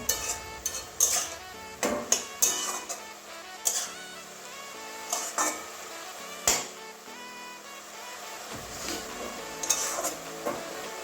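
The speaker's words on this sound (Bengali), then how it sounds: "এবারে ঢাকনাটা খুলছি একবার নাড়িয়ে দেবো" Water spinach frying in a pan with bori (lentil dumplings) as a lid is lifted off and the greens are stirred: a run of sharp metallic clinks and scrapes over a steady low sizzle, close and moderately loud, with no talk.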